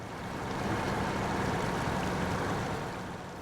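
Truck engine in SnowRunner straining under load as it climbs a hill with a new engine fitted, a steady, loud, continuous rumbling drone with no talk.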